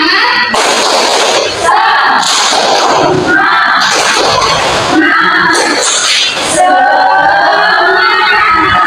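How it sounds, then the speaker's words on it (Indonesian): A class of schoolchildren performs the rhythmic "tepuk semangat" spirit clap, a burst of loud, close clapping and chanting voices in quick repeated patterns with brief pauses between phrases. "Tepuk semangat."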